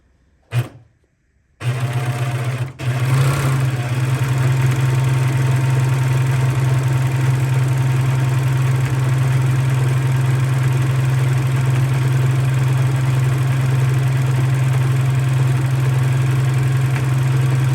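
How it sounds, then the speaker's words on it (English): Serger machine stitching fabric pieces sewn right sides together, starting after a brief pause and then running as a loud, steady humming drone with a constant low buzz until the end. "she's gonna serger that together. I'm gonna feed that in."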